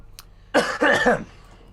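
A single close, throaty cough in two quick bursts, fairly loud against an otherwise quiet background.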